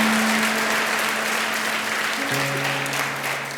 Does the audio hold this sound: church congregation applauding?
yes